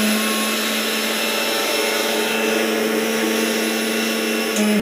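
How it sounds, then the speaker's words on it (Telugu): A mixer grinder whirs at full speed grinding dry bombay rava (semolina) for dosa batter, a loud steady motor drone with a constant hum throughout, no voices. "దీన్ని మిక్సీ పట్టుకుందామండి"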